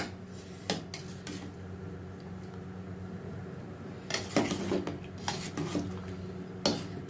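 Pot, spoon and dishes knocked and clinked while sweet milk kheer is spooned into freshly made date-jaggery chitoi pitha, with scattered sharp clatters over a steady low hum and a cluster of handling noises midway.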